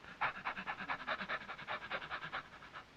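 A person imitates a sick dog panting with rapid, even, breathy huffs right up close to a microphone, a steady rhythmic pant of about five puffs per second with no talking.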